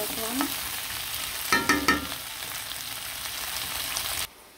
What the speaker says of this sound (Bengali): দিয়ে ভালো করে নাড়াচাড়া দিয়ে দিব